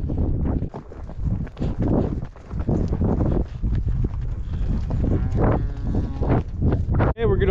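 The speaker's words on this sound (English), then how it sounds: "we're gonna hold the cows right here for a second" A herd of cattle being driven down off a mountain: repeated loud, close moos overlap one another against gusting wind on the microphone, with someone talking in between.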